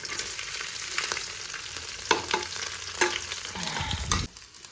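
Cumin seeds sizzle and crackle in hot oil as a spoon stirs and scrapes the pan, bright frying hiss with several clinking stirring strokes, close and without talk.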